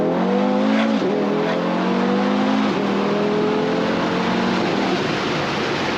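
An Audi TT RS running on E85 accelerates hard, its engine note climbing through repeated rising pulls with gear-change dips, loud and close with no voices.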